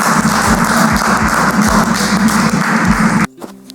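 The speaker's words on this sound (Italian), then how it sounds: "Applauso al maestro." Dense applause from a crowd, steady and loud for about three seconds, then cutting off abruptly into near silence.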